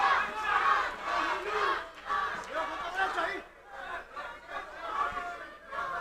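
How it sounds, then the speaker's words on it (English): A fight-night arena crowd chants and yells rhythmically for fighter Acosta, a repeated swelling chant heard somewhat distant with general crowd noise underneath. "you hear the crowd yelling for Acosta"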